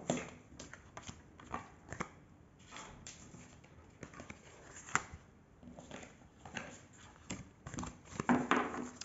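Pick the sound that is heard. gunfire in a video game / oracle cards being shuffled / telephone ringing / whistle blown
oracle cards being shuffled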